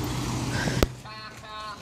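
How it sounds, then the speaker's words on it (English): A car passes by outdoors during a brief moment, its engine and tire noise rising and fading quickly, with a sharp knock and voices audible around it. "Car's coming"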